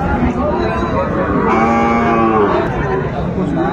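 A Sahiwal bull calf at a livestock market gives a loud, drawn-out moo close by, its low voice holding for a couple of seconds amid busy crowd noise.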